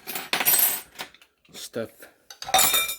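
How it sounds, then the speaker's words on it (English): A mixing bowl is shifted aside on a kitchen counter while making keto fathead dough pizza, producing a few close clinks and scrapes of dishware separated by short pauses. "move this bowl out of the way"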